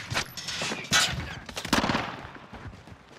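Sniper rifle fire in the Warzone video game: a few sharp, loud cracks about a second apart, standing out over dense, busy battle noise.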